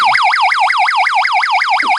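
Alarm sound effect from a 1980s toy laser gun, a loud electronic siren that whoops rapidly up and down in repeated even cycles, then cuts off abruptly near the end.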